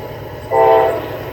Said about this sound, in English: this gives us a great view of trains climbing the grade here in Shawsville